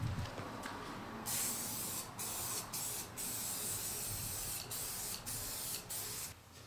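Spray paint goes onto a steampunk stool in close, loud hissing bursts: one long spray, then a series of short sprays broken by brief pauses.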